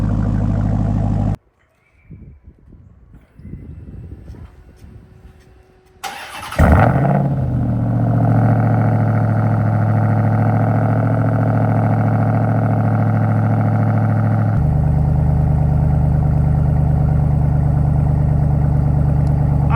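A Hellcat-powered RAM TRX with a Vibrant resonator exhaust cuts off, sits quiet, then fires up with a sharp bark and settles into a loud, steady, deep idle that shifts tone partway through, no voices.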